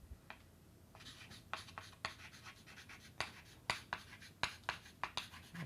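Chalk or pen strokes tap and scratch steadily across a writing surface as an equation is written out during a lecture, short crisp marks in an uneven rhythm, close and fairly quiet with no talk.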